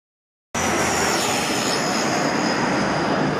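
Aircraft engine noise from a propeller plane landing at Berlin Tegel airport, a loud steady broadband roar with a high whine that starts abruptly and holds close and constant throughout.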